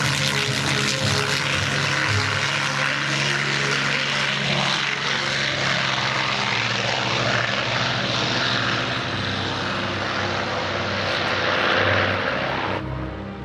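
A P-51 Mustang's propeller engine with a four-blade propeller drones loudly and steadily throughout at an air show, a deep rumbling roar with a rough, throbbing texture and no voices.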